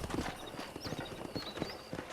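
Horse hooves clip-clop in a steady, fairly close walking rhythm in the Western video game Red Dead Redemption, over faint outdoor ambience and occasional distant bird chirps; no talking.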